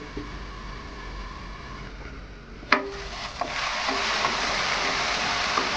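Pumpkin pieces fry in hot oil seasoned with five-spice, a steady close sizzle that swells partway through, punctuated by a few sharp spatula knocks against the pan as it is stirred.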